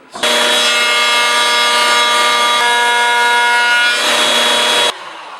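A power cutter slices through the end grain of a wood board edge, a loud steady whining cut held for several seconds before stopping abruptly, leaving a quieter hum behind.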